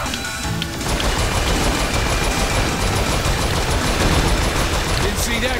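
Sustained automatic gunfire in the video game Saints Row IV, a dense, loud, continuous rattle of shots after a brief lead-in, with game noise layered over it.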